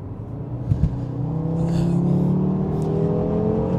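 A 2018 Audi RS3 saloon (8V) in dynamic mode: a brief throttle blip, then the engine revs up and holds a rising, loud droning tone with a rough exhaust note, heard close by.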